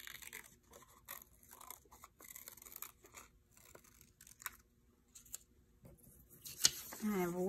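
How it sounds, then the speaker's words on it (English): Scissors snipping out a paper coconut for a Chicka Chicka Boom Boom book-tree craft: quiet, close, irregular bursts of crisp cutting and rustling paper, with brief pauses between strokes. "I'll cut out my second coconut."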